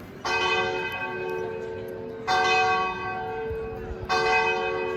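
A church bell in a bell tower in Rimini, Italy, tolls three times at even intervals, each strike ringing out and decaying slowly over faint outdoor ambience, with no talking.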